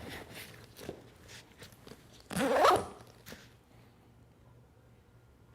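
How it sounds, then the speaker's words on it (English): A zipper on a 45L Peak Design travel backpack is pulled open in one quick, close rasping stroke, with faint handling rustles before and after. "I like to leave my zippers up near the top of the bag"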